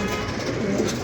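Pigeons coo in a dense, steady murmur close by, many birds overlapping in continuous low throaty calls with no break.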